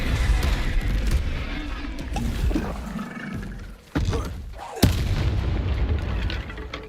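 Depulso force spell cast in combat in the Hogwarts Legacy video game against a troll, heard as a sharp blast at about 4.8 s amid constant loud battle booms, rumbling and roaring.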